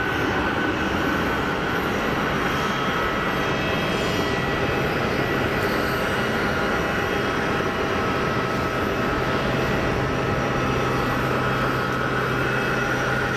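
A Swiss Airbus A220-300 airliner at Geneva Airport gives a steady, loud broadband jet roar with a constant whine, sustained throughout without speech.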